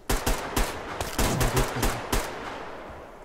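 Bursts of gunfire in the shooter game Survarium, several sharp shots in quick irregular clusters at moderate distance, with short gaps between volleys and a fading tail, no talking.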